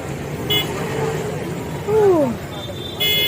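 Road traffic on a busy city street on a festival day, with a car horn toot and other vehicles passing, moderately loud under steady background noise and a bit of distant chatter.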